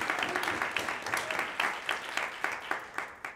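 Hall audience applauds an ensemble at a Whitworth jazz concert: dense, steady clapping from many hands with regular sharper peaks, continuing at an even level throughout.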